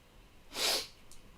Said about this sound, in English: So apologies if you can hear me sniffling.